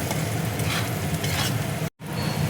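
Chopped green chilli and Kashmiri chilli powder sizzling in a pan of oil while being stirred for a bhindi pakora sabji, a loud, close, dense hiss broken by one brief dropout.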